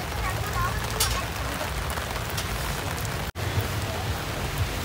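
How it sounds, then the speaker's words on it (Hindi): Heavy rain pours steadily at an outdoor community kitchen at a Delhi protest site, a dense continuous hiss with a brief dropout midway while people talk softly underneath. "अज बारिश बहुत ज्यादा आ गई है जी"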